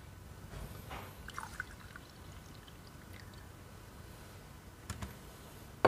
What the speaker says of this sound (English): The first one I'm going to pour is the coffee made from the Millwright